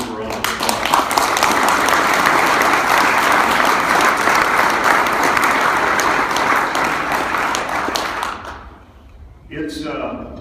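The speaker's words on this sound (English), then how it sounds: "that deserves a round of applause" An audience at a wrestling association event bursts into loud, sustained applause, dense clapping holding steady for about eight seconds before fading out, followed by a brief pause and a voice starting to speak.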